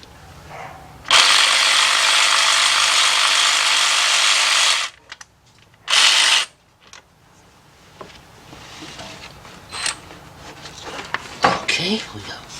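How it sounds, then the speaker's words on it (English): A cordless battery-operated ratchet spins spark plugs out of a Ford F150 4.2 engine in two loud whirring bursts, one long and one short, followed by quieter clicks and handling noises. "what I'm doing is use my cordless, my battery operated ratchet"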